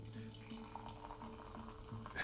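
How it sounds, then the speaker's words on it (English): Flat Pepsi pours into a glass with a soft, continuous trickling and faint fizz, quiet and close, ending with a slightly louder splash. "Just pouring a flat Pepsi, y'all."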